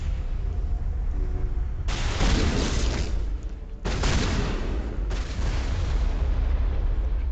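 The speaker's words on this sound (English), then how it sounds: "stuff keeps exploding in my face" Explosions go off in Mass Effect Legendary Edition, three loud bursts of blast noise over a steady rumbling battle bed, close and harsh, with no talking.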